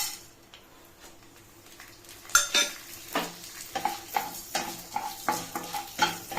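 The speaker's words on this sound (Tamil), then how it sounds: "கடாயில் எண்ணெய் ஊற்றிருக்கேன். ஒரு 2 ஸ்பூன் எண்ணெய். தாளிக்கிற பொருளெலாம் போட்டு" Tempering spices and lentils sizzle and crackle in two spoons of hot oil in a kadai while a metal spoon scrapes and stirs the pan in quick repeated strokes, close up.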